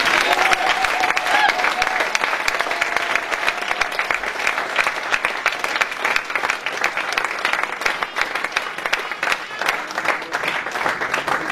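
Sustained applause from a church congregation fills the space, dense and steady throughout, with a few whoops and voices rising from the crowd over the clapping.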